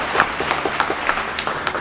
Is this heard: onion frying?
no